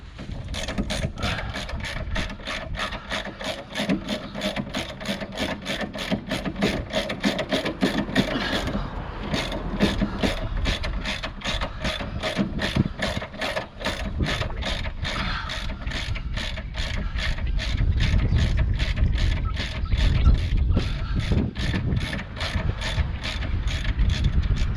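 A hand ratchet undoes the lower ball joint nut on a Citroen C4 Grand Picasso during front lower control arm replacement, clicking in a fast steady rhythm, close and loud, with a short pause partway through.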